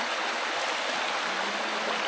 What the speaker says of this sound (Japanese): 間欠泉の高さは10メートルほどです。